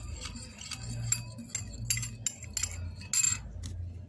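A spoon stirs a homemade hair mixture of guava leaves in a bowl, producing a quick irregular run of clinks and scrapes against the container, close and clear with no voices.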